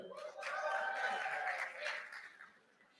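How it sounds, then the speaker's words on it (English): Thin, half-hearted clapping with some chuckles from a crowd at a high school graduation ceremony, brief and fairly quiet, fading out after a couple of seconds. "That's like a Monday first period kind of clap right there"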